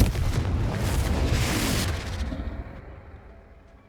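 A Confringo spell explosion in the video game Hogwarts Legacy: a loud, dense, rumbling blast that holds steady for about two seconds, then fades into a dull roar, with no talking.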